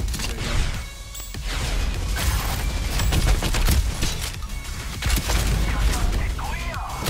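Rockets firing and exploding in the cyberpunk rogue-lite shooter Deadlink, a dense run of bursts and booms packed over steady loud game noise, with a player talking over the action.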